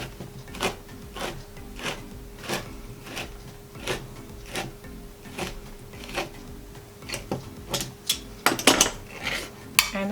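Pumpkin puree container opened by hand in a kitchen, giving a run of light clicks, taps and small clattering handling noises that build to a brief busier burst near the end, close and fairly quiet.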